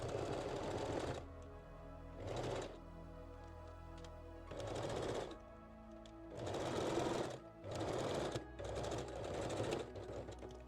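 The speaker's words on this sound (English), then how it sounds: "Now I stretch the elastic and stitch the whole front piece." Sewing machine stitching stretched elastic onto a bikini front piece, running in several rapid bursts separated by brief pauses, close and loud with no talking.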